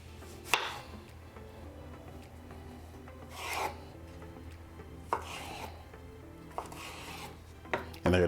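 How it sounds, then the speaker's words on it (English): A knife slices the tops off tomatoes on a cutting board while shrimp arrabbiata pasta is prepared, giving a few sparse, sharp cuts and scrapes spaced several seconds apart against a quiet kitchen hum. "These, we're just gonna take the top right off."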